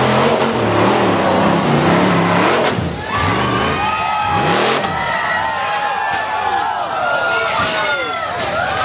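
Dirt bike motor revving hard and rising in pitch over a rocky trail, loud and close, with engine sweeps climbing and falling repeatedly and voices talking underneath.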